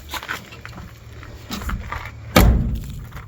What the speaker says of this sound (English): The other door closes just as good